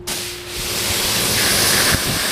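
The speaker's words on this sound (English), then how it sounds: "Just a light spray down with the pressure washer." Loud, continuous hissing spray of a pressure washer blasting love bug splatter off the front of a vehicle, starting with a sharp burst and holding a steady roar throughout.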